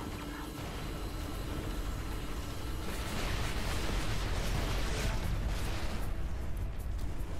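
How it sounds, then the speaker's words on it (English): Explosion in the space combat game EVERSPACE 2: a dense, rumbling roar that swells and grows louder partway through, then holds at full strength until the end, with no talk. "That was a nice little explosion."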